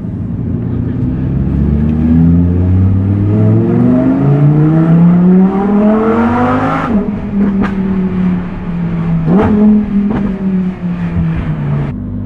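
A Lamborghini Huracán Performante's rear-mounted V10 engine revs up hard, pitch climbing steadily, then drops and blips a few times; loud and close throughout, with a voice underneath.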